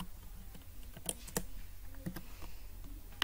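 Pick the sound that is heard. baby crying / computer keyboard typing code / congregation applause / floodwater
computer keyboard typing code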